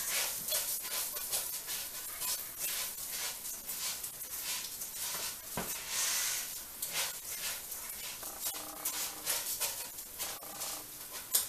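Rice toasting in a pan for Mexican rice while being stirred gives a steady, close sizzling hiss, broken by scraping and crackling spikes from the stirring throughout.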